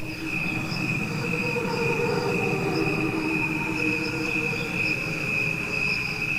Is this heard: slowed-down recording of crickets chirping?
yes